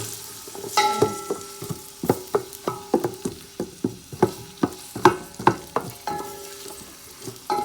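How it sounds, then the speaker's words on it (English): Red onions frying in a big pot and being stirred, a steady soft sizzle broken by regular scraping, knocking strokes of a utensil against the pot, close and fairly quiet with no talking. "So I'm gonna add my red onions, and I'm gonna give it a little stir."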